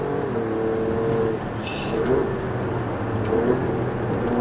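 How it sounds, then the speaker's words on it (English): An Alfa Romeo Stelvio Quadrifoglio engine drones steadily on a road trip, with a short sharp exhaust crack on an upshift partway through, heard close from inside or near the car. "every time you upshift, you got this massive bang coming out the back of the car."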